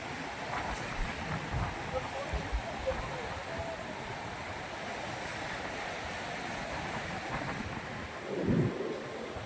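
Sea waves washing onto Purakkad beach, a steady broadband roar of surf with gusty wind buffeting the microphone, continuous and fairly near, with a slightly louder wash near the end.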